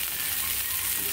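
Onion sautéing in a pan with a soft continuous sizzle of frying, brief and steady with no talk.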